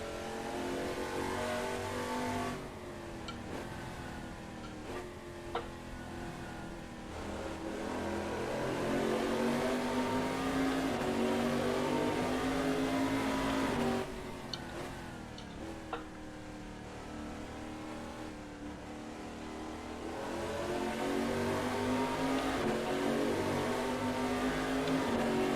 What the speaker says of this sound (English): Sounds like a V8, to be honest.